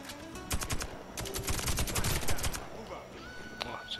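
Rapid submachine gun bursts in the shooter game Warface, dense rattling volleys repeated over several seconds with scattered single shots and game effects around them.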